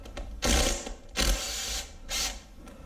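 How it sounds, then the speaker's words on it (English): A ratchet working bolts loose from a cover plate on a 6.0 LQ4 LS V8 engine during teardown, three close, brief bursts of rapid clicking spaced under a second apart. "Take these bolts out."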